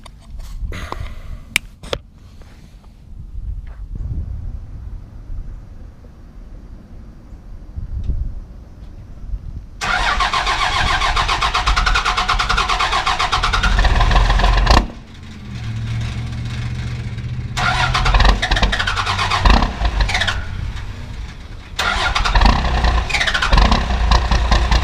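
Car engine cranking over in the cold on a single crank, then catching into a loud, rough, uneven idle with surges and dips that runs on steadily near the microphone.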